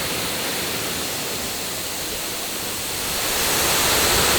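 Steady broadband rush of a waterfall beside a jungle gym in Fukushima, Japan, a continuous hiss that swells slightly louder toward the end, with no voices.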